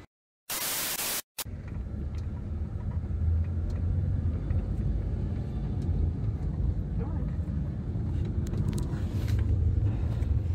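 A car drives along with a steady, broad road rumble and wind noise that lasts the whole time after a short burst of static at the start, with no one speaking over it.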